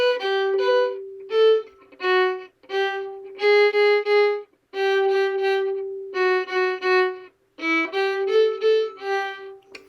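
A violin plays the second violin part of a Nutcracker arrangement, bowed détaché in the upper bow: short, lightly separated notes in clustered phrases with brief gaps, clear, close and alone.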